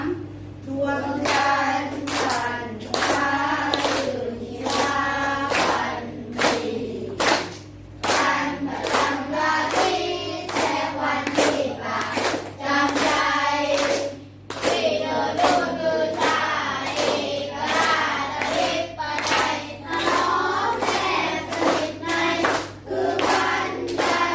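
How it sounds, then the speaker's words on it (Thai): Hands clap in a regular rhythm along to a Thai ramwong dance song during a dance lesson, sharp evenly spaced claps over a sung melody with a low steady hum underneath. "ปรบมือด้วย"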